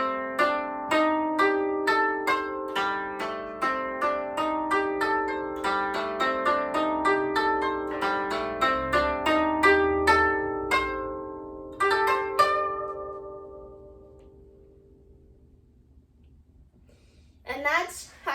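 A plucked koto plays a steady melody of ringing notes, ending on a final strum that decays into near silence before a short noise.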